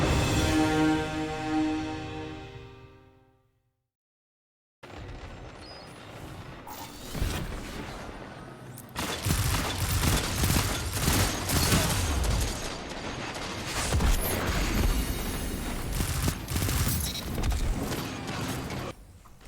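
Vigilance Wing pulse rifle in Destiny 2 firing five-round bursts, heard as clusters of rapid punchy shots with mechanical clatter, loud and close, after a brief lead-in and a moment of silence.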